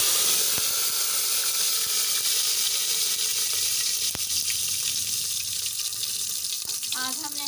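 A steady, loud hiss and crackle of ginger, garlic and green chili paste frying in hot ghee for khichdi, continuous and close throughout.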